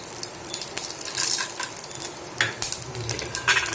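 Mustard seeds and chana dal frying in hot oil in a home kitchen, a steady crackling sizzle with scattered pops and spoon scrapes against the pan, no talking.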